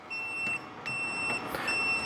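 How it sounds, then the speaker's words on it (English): Three short electronic beeps in a row from a vacuum chamber sealer signalling completion, spaced roughly evenly, over a steady background hum. "Those tones mean that the system is done, so you kind of want to wait for those 3 beeps."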